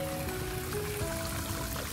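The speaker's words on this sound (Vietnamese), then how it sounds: "nghe tiếng róc rách của suối cả nhà nha" Continuous gentle babbling and trickling of an artificial stream flowing over a small weir in a city park, steady and moderately close.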